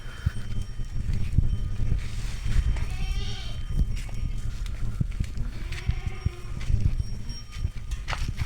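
Goats at a farm in Dalwadi, Shindkheda, Dhule, including black-faced and 50% Boer does, bleat a few times over steady outdoor farmyard background noise, the calls moderately close and separated by pauses.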